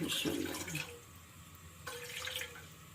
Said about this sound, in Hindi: और 1 कप पानी का मैं इसमें डाल दूंगी।